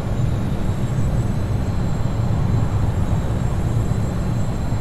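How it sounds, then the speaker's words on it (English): Steady, even engine drone and road rumble from a truck cruising at 55 mph in American Truck Simulator, a continuous low hum with no talk. "Truck's so much quieter now that we got to go 55."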